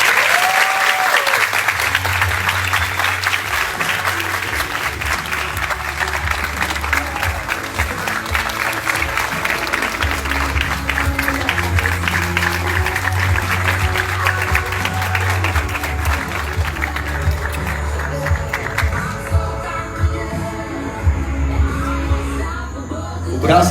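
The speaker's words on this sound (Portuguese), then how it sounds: "Uma salva de palmas para o Carlinhos." Sustained audience applause for Carlinhos at a live comedy show on a ranch, loud and dense throughout with occasional cheers and whoops, and music playing underneath.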